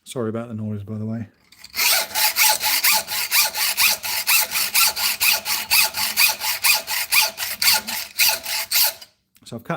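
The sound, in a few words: sawing steel lockpick blank clamped in vise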